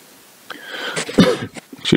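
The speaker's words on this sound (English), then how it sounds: "Excuse me for coughing." A person at a home livestream setup coughs and clears their throat in a few short, close, abrupt bursts, with no talking.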